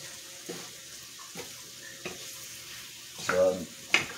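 Curry shrimp with bell pepper, cilantro and onion is stirred in a pan, giving soft intermittent scraping strokes over a low sizzle, with a louder clatter of utensil against the pan near the end.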